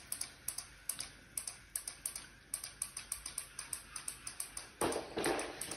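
Relay modules on a PLC-controlled mobile robot click steadily as they switch the drive motor, a rapid run of sharp, fairly close ticks, with a brief burst of louder mechanical noise near the end.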